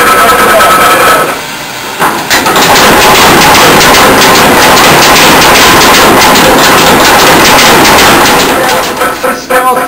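An electrically driven blacksmith's power hammer, foot-controlled for force and speed, pounds away in rapid, loud, continuous mechanical strikes close by, with a brief pause near the start before the hammering resumes steadily.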